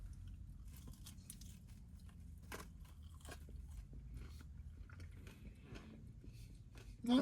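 Crunchy chicken tenders being bitten and chewed up close, a run of soft repeated crackly bites and moist chewing against a low steady background hum, with no talking.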